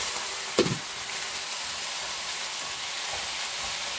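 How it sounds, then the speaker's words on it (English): Bok choy steaming in a pot, a steady close hiss of steam throughout, with one brief clatter of stirring near the start. "I'm just gonna stir it up now."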